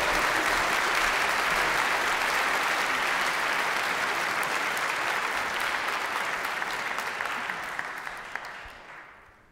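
A concert audience in a hall applauding a live orchestra, a dense, loud wash of many hands clapping at once, sustained before tapering off toward the end.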